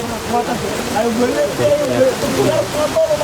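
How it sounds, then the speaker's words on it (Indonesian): Heavy rain pours steadily during a mountain hike, a dense continuous hiss of water on surfaces filling the whole clip at close range. "Hujannya tuh sangat deras banget."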